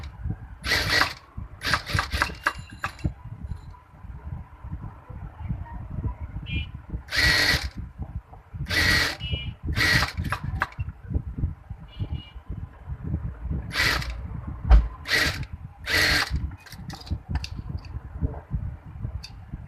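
A sewing machine stitches a belt seam on a baby frock. It sounds in repeated short bursts over a continuous rattling, clattering mechanical background, with no speech.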